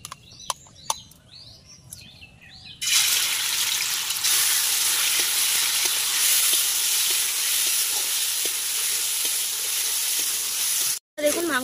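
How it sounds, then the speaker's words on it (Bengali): Chicken pieces fry in oil in a wok. The clip opens with a few quiet clicks and taps, then a loud, close, continuous hiss of sizzling oil holds for several seconds before cutting out briefly near the end. "এবারে চিকেনটা ভালোভাবে ভেজে নেব।"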